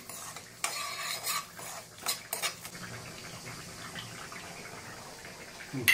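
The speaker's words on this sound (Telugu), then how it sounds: "ఆవాలు అన్నీ కలిపి దోరగా వేయించుకోవాలండి." Mustard and cumin seeds fry in a pan for a murrel fish pickle, with several sharp close stirring scrapes over a soft continuous sizzle.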